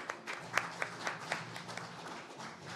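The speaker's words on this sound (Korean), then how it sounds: "여러분 계속해서 힘찬 박수로 함께해 주시고요" Audience applause at a youth forum in Ulsan, heard faintly as a low, steady patter of clapping with a few sharper claps standing out across the whole stretch.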